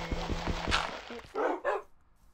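Dog barking in Minecraft: a couple of short, close yips after a run of rhythmic thuds, then quiet.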